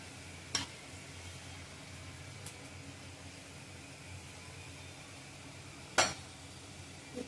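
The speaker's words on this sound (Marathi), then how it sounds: "आता थोडे फ्राय होत आलेले आहेत बटाटे" Potatoes frying in a pan with a steady, quiet sizzle, broken by a couple of sharp clinks of a utensil against the pan, with no talking.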